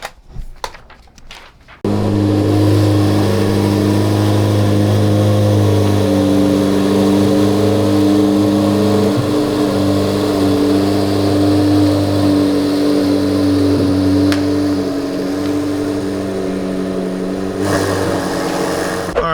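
After a few sharp clicks, a new 2025 C8 Corvette Z06 engine roars to life and holds a loud, steady, deep rumble with an even idle drone that continues throughout.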